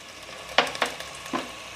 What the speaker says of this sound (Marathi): आणि हे पुन्हा 2 मिनटं मी चांगलं परतून घेणार आहे.